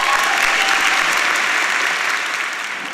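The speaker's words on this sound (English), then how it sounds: "So just give everybody a round of applause." Audience at a Landmark College spring graduation ceremony breaks into sustained applause, a dense wash of clapping from a large crowd that stays loud and slowly tapers off.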